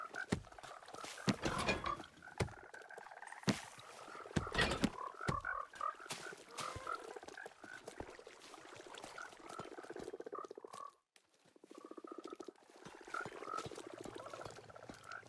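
Frogs croaking in Minecraft, a dense chorus of many overlapping croaks and clicks that keep going with a brief lull near the end, fairly close and busy.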